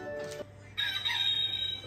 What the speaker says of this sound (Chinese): 小破公鸡叫